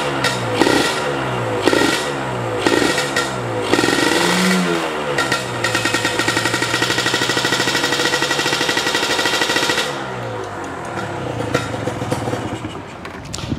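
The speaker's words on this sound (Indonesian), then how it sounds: "dibobok sih knalpotnya" A Kawasaki Ninja 150 R motorcycle engine with a leaking, holed exhaust revs up and down with a loud, rough, popping rattle from the exhaust, close by, rising to a sustained roar before dropping back.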